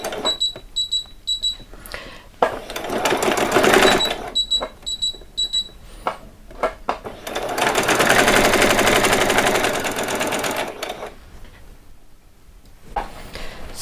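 A sewing machine stitching fabric for a doll's saree runs in long continuous bursts, pausing between them, with short clicking stops; loud and close, no talking.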